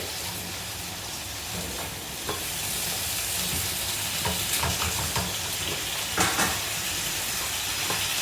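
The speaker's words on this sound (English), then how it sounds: "So you can see that I am heating it up in this pan. Let it sear well." Mutton chops sear in a hot pan with a constant, dense sizzle and hiss and occasional sharper crackles. It is close and fairly loud, with no speech.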